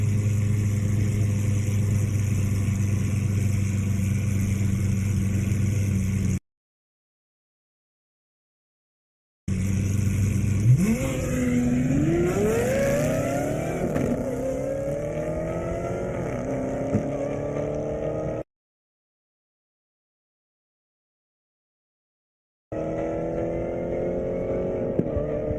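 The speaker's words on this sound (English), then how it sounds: "That Aventador sounds amazing." Lamborghini Aventador with its V12 engine launching in an airport drag race, loud rising revs sweeping up through repeated gear changes, broken by stretches of silence.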